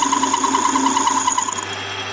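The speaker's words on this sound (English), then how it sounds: "So here I'm just putting a chamfer on so that I can weld." A metal lathe or machining tool cuts a chamfer on the end of a gear change tube for a Rover P4, giving a steady whining hum with high tonal ringing, close and continuous, before dropping away as the cut ends.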